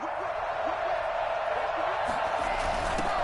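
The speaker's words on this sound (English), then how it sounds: "the crowd getting into it as we come up on a big third down" A stadium crowd at a Broncos at Patriots football game roars steadily ahead of a big third down, a loud continuous wash of cheering with a commentator talking over it.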